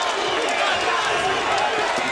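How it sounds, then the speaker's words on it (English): Loud, partisan crowd cheering at a professional boxing match between James DeGale and Lucian Bute, a dense, steady roar of many voices that fills the arena. "This partisan crowd, loud and proud."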